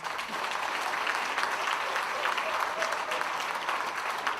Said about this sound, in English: So please give my father a round of applause